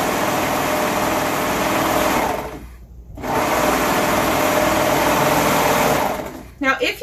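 Serger overlocking and trimming a fabric edge, a steady close mechanical whir that drops out briefly near the middle and again at the end before restarting.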